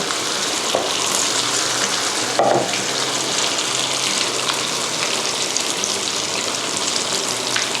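Steady, dense crackling sizzle of taro deep-frying in hot oil, continuous and close, with a brief louder spatter partway through.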